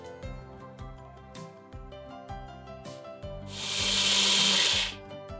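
A wet grinder churns red rice batter with urad dal, a steady mechanical rumble with rhythmic knocking, swelling into a louder hissing grind toward the end before easing off.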